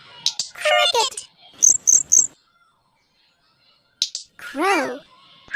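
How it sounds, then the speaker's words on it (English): Three quick, sharp cricket chirps sound close and clear in a quiet moment, set between a child's spoken word and a short sung-style voice. "Cricket."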